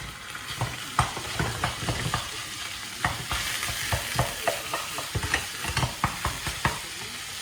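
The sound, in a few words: lean beef, onion and garlic frying in a pan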